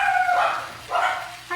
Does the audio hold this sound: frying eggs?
no